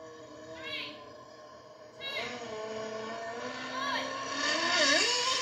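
High-pitched whine of an Arrma Limitless RC car's electric motor revving up and down in rising and falling sweeps, growing louder, with a voice briefly audible.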